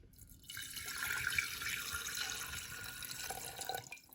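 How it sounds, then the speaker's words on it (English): Water pours into a vase holding a Phalaenopsis orchid, a close gurgling, trickling stream that starts abruptly, runs for about three seconds and then tapers off, without speech. "So let's add the water once again."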